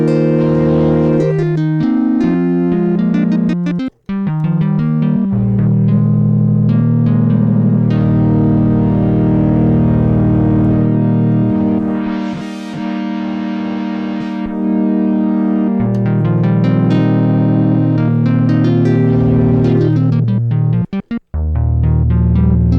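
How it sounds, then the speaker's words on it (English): An Arturia PolyBrute synthesizer plays sustained, buzzy notes through its ladder filter with distortion and a little resonance, loud and close, with the pitch shifting between held notes and brief filter sweeps. "Put some distortion on the ladder."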